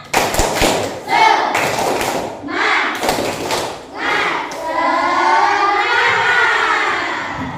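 Children in a classroom perform a rhythmic clapping cheer, loud sharp claps in bursts alongside chanting voices, then a sustained shout at the end.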